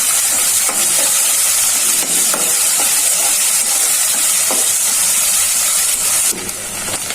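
Lightly browned onions frying in a kadai give a strong, steady hiss and sizzle that stays loud throughout, with occasional soft stirring knocks and a slight drop in level near the end.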